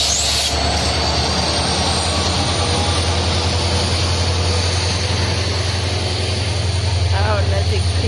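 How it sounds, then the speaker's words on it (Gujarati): A train rolls past close by on railway tracks, a loud, continuous rumble of wheels and wagons with a metallic squeal, filling the whole stretch with a steady roar. "અને રેલગાડી આવી જો"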